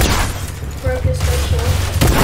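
Rapid gunfire in the video game Fortnite, a loud burst of shots followed by sporadic blasts and booms, with game sounds layered throughout.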